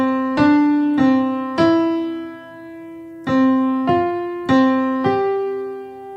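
A piano exercise played in a short-short-short-long rhythm: three evenly spaced notes and then a held note, repeated twice, clear and close with no voices.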